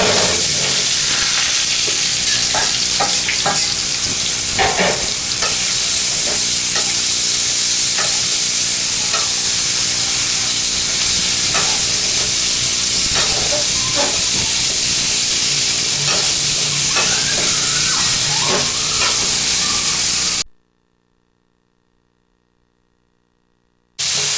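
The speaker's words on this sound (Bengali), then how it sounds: "বেগুনগুলো ভালো নরমভাবে ভেজে নেবেন" Eggplant frying in hot oil for a Bangladeshi egg and eggplant dish, a steady loud sizzle with occasional stirring clinks, close up, before cutting to near silence at the end.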